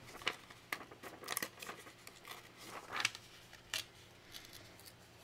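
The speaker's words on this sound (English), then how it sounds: "I think I want to rip that out." Transparent washi tape being torn and snipped, a series of short crisp cuts and rips scattered irregularly, quiet and close with no talking.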